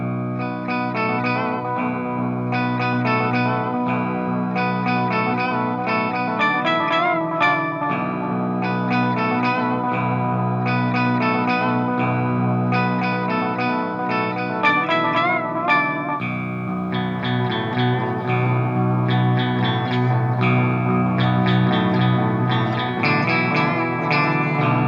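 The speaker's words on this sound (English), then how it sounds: "I like to just dial in a little bit of upper octave to give kind of a nice kind of 12-string guitar kind of vibe for clean passages" A clean electric guitar runs through an upper-octave pedal with reverb, giving a shimmering 12-string-like tone as it plays a steady arpeggiated chord pattern with ringing, echoing notes.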